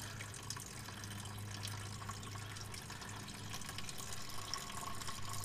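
Diesel fuel trickles from the opened drain on a Ford 6.7 Powerstroke fuel filter into a bucket, a steady splashing stream of liquid that runs continuously and moderately close.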